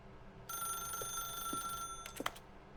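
A telephone rings in The Stanley Parable video game, one steady electronic ring lasting about two seconds over quiet room tone, followed by a couple of soft clicks.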